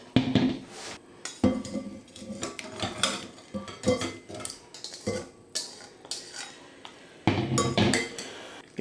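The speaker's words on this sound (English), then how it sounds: "Give those a good old stir and get all of them coated" Beaten eggs stirred with potatoes and onion in a bowl using a utensil, giving a quick run of close clinks and scrapes against the bowl, loud and irregular, with no talking.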